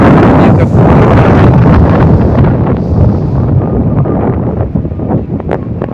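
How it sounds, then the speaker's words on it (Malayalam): Strong wind roars across a hilltop lined with wind farms, buffeting the microphone in loud, continuous gusts that ease a little toward the end. "നല്ല കാറ്റുണ്ട്"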